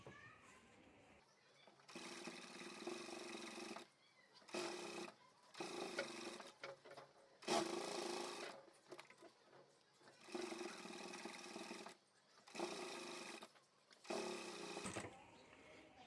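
Sewing machine stitching piping onto a fabric handbag, running in steady mechanical bursts of a few seconds each with short pauses between them, close and clear.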